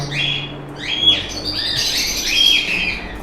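Cockatiels, including Latino, emerald, fallow and cream-face mutations, chirp and squawk in a breeding setup, with repeated shrill calls overlapping at close range and no talk.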